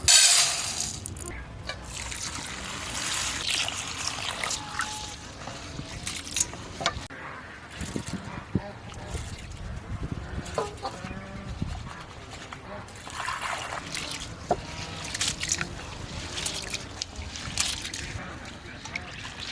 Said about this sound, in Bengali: ডালটা ভালো করে কষলি কষলি ধুয়ে নিচ্ছি।